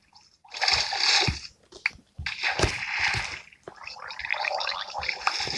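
Video game splashing as a player character plunges underwater, close bursts of sloshing and gurgling water arriving in several waves with short gaps.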